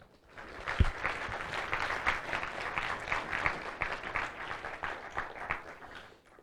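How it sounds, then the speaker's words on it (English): Audience applause at the closing ceremony of the 2018 International Physicists' Tournament, a steady dense crowd clapping that holds at moderate volume throughout, with one sharp low thump near the start. "So let us applaud the MIPT."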